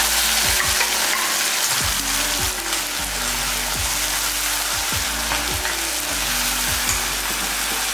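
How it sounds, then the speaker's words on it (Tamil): Puréed tomato paste hits hot oil in a pan for a Sankara fish curry, giving a loud, steady, close sizzle with repeated stirring scrapes throughout and no voices. "இந்த தக்காளியும் இதில் ஊற்றிக்கலாம்."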